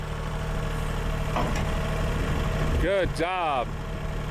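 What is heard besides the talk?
tractor engine idling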